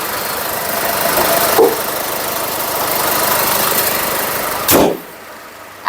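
A 2011 Nissan Navara pickup with a 2500 cc engine idles with a steady, loud mid-pitched rumble and slight knock, ending in a sharp thump as the engine is switched off and the sound drops away.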